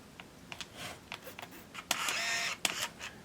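Olympus Stylus 100 Wide 35mm film camera making a series of small mechanical clicks and whirs, with a longer motor whir in the middle, close and quiet with no talking.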